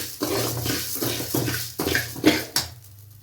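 Salt is stirred in a hot pan on a village home stove, with a run of sharp metallic scrapes and clinks of a utensil against the pan in an uneven rhythm, close and fairly soft.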